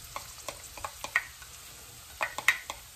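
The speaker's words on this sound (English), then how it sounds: "Get in there and start tossing it around to warm it through and just cook it just a little bit." Corn and bell peppers sauté in a pan with a quiet background sizzle, punctuated by a string of light scraping taps and tosses of a spatula, some clustered close together.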